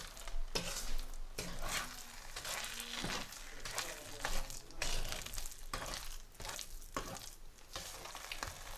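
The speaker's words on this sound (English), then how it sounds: "I'm going to gently fold it in and mix it well." Sugar being folded and stirred into a thick lentil halwa in a pan, with repeated rhythmic scraping and soft sizzling strokes at close range, steady throughout with no speech.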